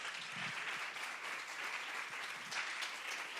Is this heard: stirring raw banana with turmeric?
no